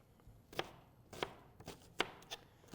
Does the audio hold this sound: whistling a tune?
no